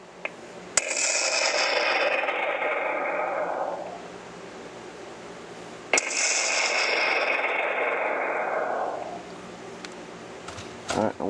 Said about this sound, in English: and then you have rocket.